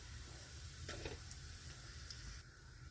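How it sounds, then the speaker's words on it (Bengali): Dried red chillies and black cumin frying in hot mustard oil in a kadai, a faint, steady crackling sizzle over a low background hum, close but quiet. "সর্ষের তেলটা গরম হয়ে গেছে এখানে দিয়ে দিচ্ছি শুকনো লঙ্কা কালো জিরা"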